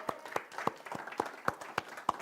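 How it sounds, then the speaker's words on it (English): A small congregation at a Sunday celebration claps for the musician, with sparse, distinct claps at a loose, steady rhythm close by and a faint murmur underneath. "Let's give him a round of applause."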